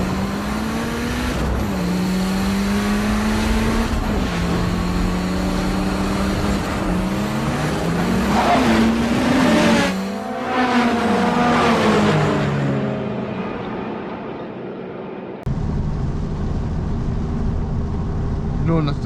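A Honda Civic Si with a freshly installed clutch revs and accelerates hard nearby, engine pitch climbing through several gear pulls before cutting off abruptly, with a steady tone continuing afterward.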